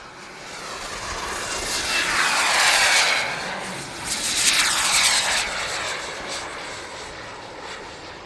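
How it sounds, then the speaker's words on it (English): A small model jet engine, an Elite Aerosports Viper Jet, whines overhead at an outdoor model air show, swelling as it passes close, fading, then rushing by again in a second pass. "we've got Joe's flying the Viper"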